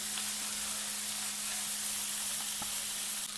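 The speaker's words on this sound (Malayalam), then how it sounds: "ഉപ്പ് ഇട്ട് ഒന്നും കൂടി നന്നായി വഴറ്റിയെടുക്കാം അതിനെ" Onions sauté with salt in a pan for a crab roast, giving a steady, soft sizzle and hiss with a few faint stirring clicks and no voices.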